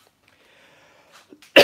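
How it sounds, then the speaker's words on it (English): Near silence with a few faint breaths, then one sudden, loud cough bursts out right at the end. "got a bit of a cough"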